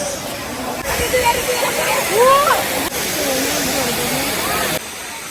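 Steady rushing hiss of a waterfall near the Ekvira temple, continuous and fairly loud, with voices of a group chatting and babbling over it.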